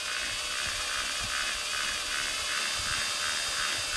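A rotary hammer drill running slowly with its gears turning in grease, giving a steady whirring drone close up, with faint irregular clicks and ticks from the mechanism underneath, no voices.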